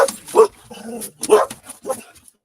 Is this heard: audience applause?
no